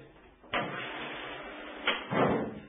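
A loud bang of water hammer in the pipes, then after a pause a quicker double knock, each thud ringing briefly over a faint hum.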